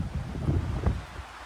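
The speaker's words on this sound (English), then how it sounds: "It is super windy today too." Gusty wind buffets the microphone outdoors behind a Northern California home on a windy, rainy day, a low rumbling rush that swells and eases through the short clip with no voices.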